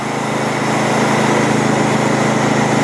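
A hot water pressure washer mounted on a trailer runs at a steady, loud engine-driven drone, constant and close throughout with no speech over it.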